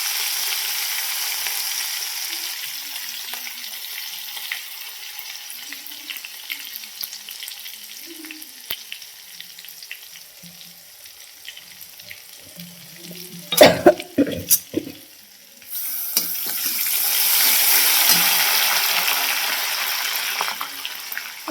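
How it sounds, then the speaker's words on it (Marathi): Cumin, mustard seeds and garlic dropped into hot oil in a home kitchen, with quiet background hiss at first, then a burst of crackling and spattering sizzle, then a loud steady frying hiss. "आता तेल गरम झालं मग त्याच्यामध्ये आता जिरी टाकली, जिरी मोहरी आणि आता लसूण"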